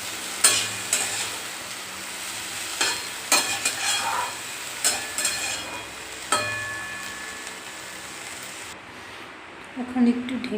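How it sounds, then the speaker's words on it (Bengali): Stir-frying nigella seeds, green chillies, salt and washed vegetable stems in a pan: steady close sizzle with repeated sharp scraping knocks of a spatula, then the hiss drops off near the end. "ভাজাটা হচ্ছে থাক"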